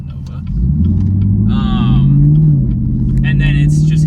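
A Chevrolet Nova drives past, its deep engine rumble swelling and holding steady for several seconds while someone talks over it.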